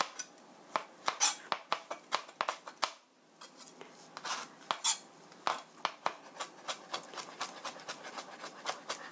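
A knife slices ginger thinly against a cutting board, giving a close, crisp series of tapping cuts that come in quick bursts with a brief pause partway through.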